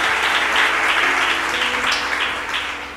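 Applause from a church congregation praising the Lord, a dense broadband clatter of many hands at close range that holds steady, then tapers slightly toward the end with no talk over it.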